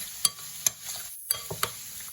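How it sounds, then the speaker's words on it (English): Vegetables for kebabs stirred in a pan with a spoon, giving a few sharp scrapes and clinks in an uneven rhythm over a faint sizzle, close by and fairly quiet. "Use that spoon. Give that a nice stir around."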